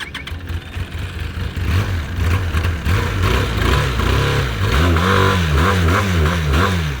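A two-cylinder Benelli motorcycle engine revs hard several times in quick succession, rising and falling in pitch, loud and close, with no talking.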